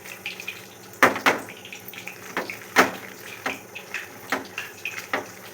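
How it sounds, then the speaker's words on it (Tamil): Water trickles and splashes in short bursts into a bowl of wheat and rice flour batter, each pour loud and close, with small clinks between pours and no talk. "திட்டமாக தேவையான அளவுக்கு தண்ணி மட்டும் கொஞ்சம் பார்த்து ஆட் பண்ணிக்கோங்க"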